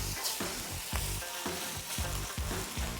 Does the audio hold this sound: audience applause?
no